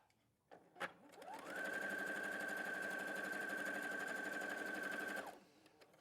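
A Brother sewing machine stitches a straight quarter-inch seam, spinning up after a couple of clicks into a steady high whirring run for about four seconds, then stopping. It is close and alone, with no talk.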